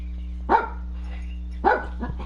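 Dog on a farm lets out two sharp, close barks about a second apart, followed by a softer yip, over a low steady hum.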